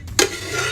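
A brief stir of ogbono soup with okra in a pot: a quick scraping swirl with a sharp opening scrape, then a soft, slimy churning that fades out.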